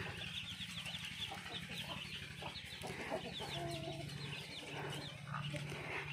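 Black chickens clucking in a pen, a soft continuous chorus of overlapping clucks and chatter from several birds, fairly faint and steady throughout.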